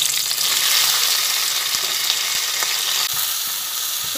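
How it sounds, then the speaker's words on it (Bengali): Boiled flat green beans fry with green chili in a pan, giving a loud, steady, dense sizzle throughout with occasional soft stirring clicks and no talking. "এরপরে শিমগুলো ভাজা হচ্ছে"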